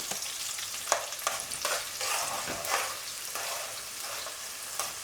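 Vegan efo elegusi with onions and iru frying in a pan while being stirred, a steady sizzle broken by repeated scraping and clinking strokes at an uneven pace, close and with no voices.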